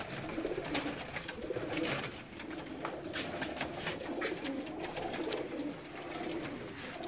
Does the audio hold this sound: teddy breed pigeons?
yes